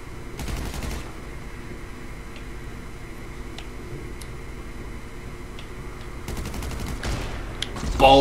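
Sniper gunfire in a multiplayer video game, two sharp distant cracks several seconds apart over a low steady background hum, with faint ticking clicks in between and no talk.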